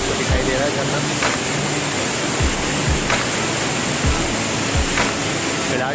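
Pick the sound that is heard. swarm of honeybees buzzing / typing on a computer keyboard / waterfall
waterfall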